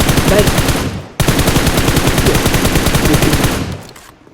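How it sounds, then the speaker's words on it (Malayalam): Loud, rapid automatic gunfire in a shooting video game rattles on in close continuous bursts, breaks off for an instant and then carries on before fading out at the end. "ആ സ്നൈപ്പർ വീണ്ടും അടിക്കണേ"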